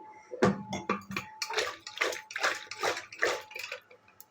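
Water poured into a pot of mixed-vegetable chutney with beetroot, potato, papaya and radish, a series of splashy, gurgling pours arriving in short rhythmic bursts, close and fairly soft.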